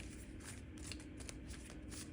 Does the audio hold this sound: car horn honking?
no